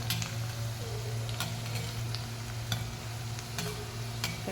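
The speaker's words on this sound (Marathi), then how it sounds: "तर आता हे थोडंसं हलवून बघायचं" Potato and onion pakoda fritters in hot oil give a steady low frying sizzle, with intermittent light clicks and scrapes as they are stirred and turned.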